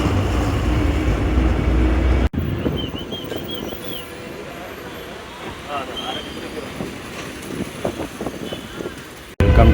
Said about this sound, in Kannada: ಟ್ರೈನ್ ಪಾಸ್ ಆಗ್ತಾ ಇದೆ.